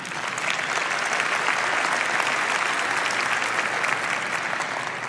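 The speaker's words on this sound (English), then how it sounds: "Only at GTC do you get an applause for that." Steady, dense audience applause fills a large hall at the NVIDIA GTC 2025 keynote, loud and even throughout with no talk over it.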